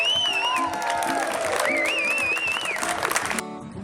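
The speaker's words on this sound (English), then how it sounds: "I just want to give a round of applause for all the essential community members" A crowd of city workers at a rally claps and cheers for essential community members, with whoops and shouts over the applause before it cuts off abruptly near the end.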